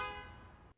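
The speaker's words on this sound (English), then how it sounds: "Honk twice if you love the Beavs." A car horn sound effect plays on a sports podcast, a single short, steady honk that is loud and close and then cuts off abruptly, with no talking over it.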